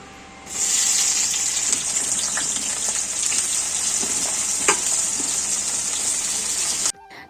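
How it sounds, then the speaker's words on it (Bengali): A pan of vegetable curry with onion and chilli sizzles loudly and steadily on the stove, starting abruptly and cutting off near the end, with faint clinks over it. "আর এখন তরকারিটা রান্না করছি"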